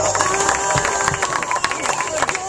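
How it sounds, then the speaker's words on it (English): Baseball crowd at a senior appreciation day, applauding and cheering a graduating player at home plate, loud continuous clapping with shouts mixed in. "How about a nice round of applause for number 30"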